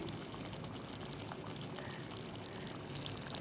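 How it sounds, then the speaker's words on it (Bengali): Mustard oil poured from above over a pomfret fish curry simmering in a pan, a steady close pouring and sizzling wash that runs unbroken without any talk. "এবার সর্ষের তেল একটু দিয়ে দিচ্ছি ওপর থেকে"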